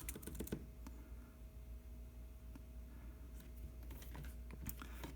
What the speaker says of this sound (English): See, the typing works pretty good.